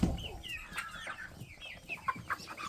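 Young chickens clucking while being sorted by sex into cockerels and pullets, one big bird with a crest, a mix of clucks and short cheeps, fairly close and moderately loud.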